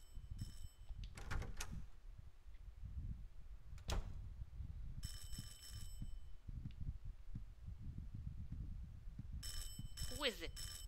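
A doorbell in Silent Hill 4 rings three times in separate bright, metallic bursts spread over about eleven seconds. A low, pulsing heartbeat-like thump runs throughout.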